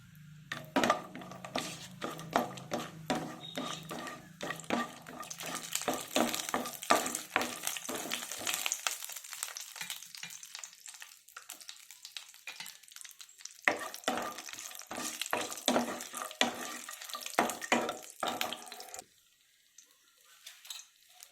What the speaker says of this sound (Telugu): రెండు కొబ్బరి లవంగ ఇలాచి జీడిపప్పు ఇవి ఫ్రై అవ్వాలి బాగా